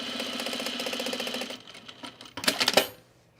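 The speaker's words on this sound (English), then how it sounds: "I'm just edge stitching the pleat, that's all." A sewing machine edge-stitches a box pleat on a men's utility jacket: a fast, even run of needle strokes for about a second and a half, then a few louder mechanical clacks as it stops.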